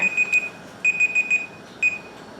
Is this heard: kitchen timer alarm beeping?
yes